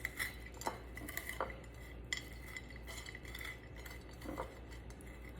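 Knife cutting bacon into small pieces against a board or dish, a series of sharp irregular clinks and taps up close, each one brief, with a faint hum beneath and no talk.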